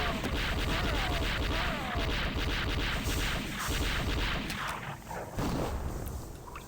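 Dense AK rifle gunfire from the shooter game Redneck Rampage fills the scene with loud, rapid bursts that thin out near the end.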